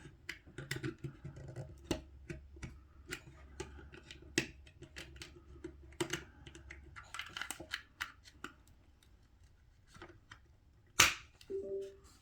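A computer keyboard is typed on at a desk while a 7-port USB 3.0 hub is being set up, giving sparse, quiet clicks and taps that grow busier toward the end, with no talking.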